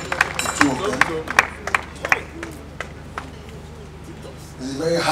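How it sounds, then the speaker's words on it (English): An audience gives a round of applause, scattered claps in bursts that taper off, mixed with crowd murmur and a voice talking over it. "A round of applause for him too."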